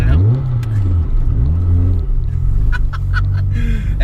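Nissan Silvia S15 with a 550bhp SR20DET engine revs hard and accelerates, its pitch sweeping up in repeated loud pulls, heard up close under a rumbling exhaust with people talking over it.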